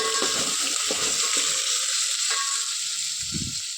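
Coriander and mint leaves sizzle and fry in hot oil in a pot while chicken bagara rice is being cooked, a steady close crackle with a few soft stirring clatters and no talk.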